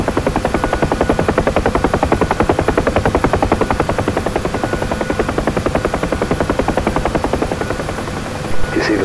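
A helicopter landing on a helipad in the DCS World flight simulator, its rotor thumping in a fast, steady rhythm, loud and close, with the beat easing slightly toward the end.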